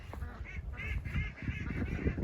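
Ducks in a farm pen by a pond give a run of repeated honking quacks, fairly close, over a steady outdoor background with no talking.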